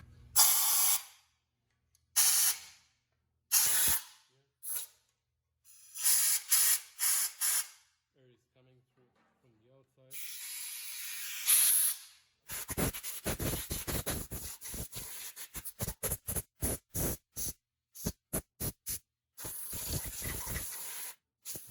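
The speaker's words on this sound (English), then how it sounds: "my oil gallery is open, so I'm gonna blow and let's see what's gonna come out" Compressed air blasts through the oil galleries of a bare 1974 Triumph TR6 engine block in bursts, first a few long hissing blows, then a rapid series of short sharp puffs, close and loud.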